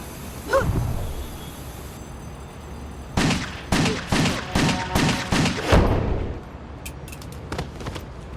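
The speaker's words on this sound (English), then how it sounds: "Use split targeting to shoot 2 enemies at the same time." Dual pistols fire in the PS3 action game WET, a rapid volley of about eight sharp, loud shots in quick rhythm after a single earlier blast, trailing into quieter clicks and game ambience.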